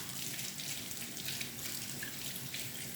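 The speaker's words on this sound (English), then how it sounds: "Turn on the cold water, because they are still very hot." Cold tap water gushes steadily into a sink over hot boiled eggs sitting in a strainer, a constant close, hissing stream with no talk.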